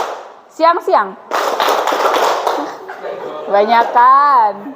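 A group of children clap in unison during a classroom hand-clap game in an Islamic studies lesson, a dense burst of claps lasting about a second and a half between chanted children's voices.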